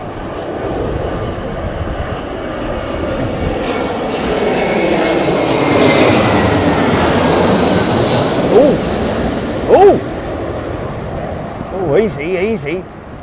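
Roaring airliner engine thrust from a plane landing at Heathrow Airport during a storm, a loud, broad rumble that swells and holds over several seconds while people talk and exclaim nearby.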